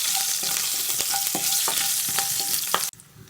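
Green chilies sautéing in hot oil for a Kerala-style fish pickle, a dense steady sizzle broken by short clinks and stirring scrapes, loud and close, cutting off abruptly near the end.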